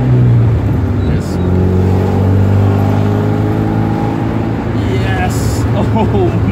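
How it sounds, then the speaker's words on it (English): A 1979 Alfa Romeo Alfetta 2.0 drives along with a steady, loud engine drone and shifting low harmonics throughout, while people talk over it. "I miss driving this car!"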